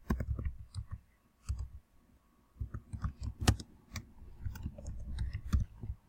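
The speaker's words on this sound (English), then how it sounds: "you can just type in the name of the book" A book title being typed on a computer keyboard, in irregular bursts of close, crisp key clicks separated by short pauses, with no talking.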